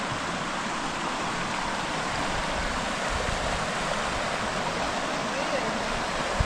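A creek flows near a bridge with a steady, broadband rushing of water that stays loud and even throughout.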